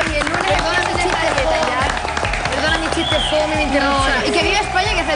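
Studio audience applause on a Spanish television variety show, a steady dense wash of clapping with crowd noise and a host's voice over it throughout.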